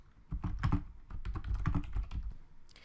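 Typing on a computer keyboard up close, a quick irregular run of clicking keystrokes in two bursts with a brief pause between, alone with no talking.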